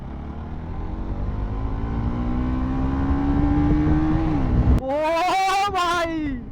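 A motorcycle engine revs and accelerates steadily with a rising pitch, then drops and roars again in sharp bursts, loud and close with no talk over it.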